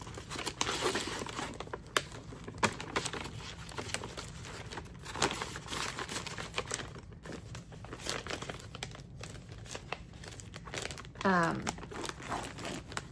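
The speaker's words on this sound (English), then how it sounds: "Let me put this paper back in this sleeve." Paper slides back into a plastic sleeve, with close, crisp crinkling and rustling in bursts over several seconds, alongside brief sharper crackles.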